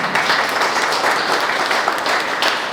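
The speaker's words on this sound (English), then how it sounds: "thank you for that clap" A school bookfair audience breaks into steady, dense applause, many hands clapping at once, loud and continuous throughout.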